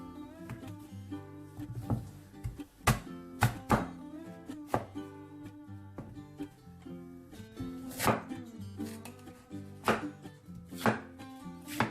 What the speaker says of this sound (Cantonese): 蓮藕喺呢度中間切開。